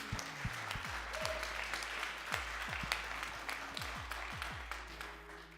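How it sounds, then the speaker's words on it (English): An audience claps steadily in sustained applause, with a few sharper individual claps and low thumps standing out. "that applause means a lot"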